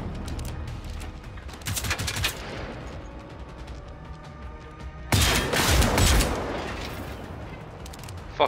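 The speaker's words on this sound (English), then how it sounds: "Fucking love the shotgun, it's such a beast." Shotgun blasts and other gunfire in the game Generation Zero ring out in loud bursts, with a dense cluster early on and a heavy, booming volley partway through that rolls on before a final sharp shot at the end.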